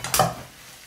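Brief scrape of a utensil stirring mallow leaves with garlic and olive oil in a pan, a short soft stroke with a faint sizzle that trails off quickly.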